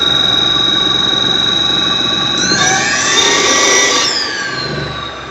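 An electric motor over-accelerating on a test run, a steady high whine with strong tonal harmonics that rises and sweeps upward in pitch midway, then holds and eases slightly, loud and close with no talk.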